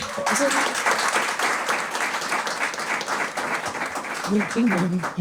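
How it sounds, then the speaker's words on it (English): An outdoor ceremony audience at Lasdon Park applauds legislators, a steady wash of clapping at moderate loudness, with voices rising briefly over it toward the end. "Give them a round of applause"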